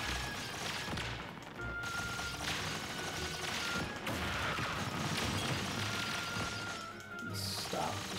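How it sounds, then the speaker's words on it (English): A dense, continuous barrage of explosions and crashing impacts in Super Smash Bros. Ultimate, loud and layered, with a voice talking over the chaos. "There's too many explosions."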